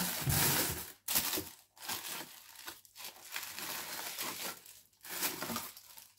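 Plastic packaging crinkles and rustles close up in several bursts with short pauses between, crisp and scratchy, no talking.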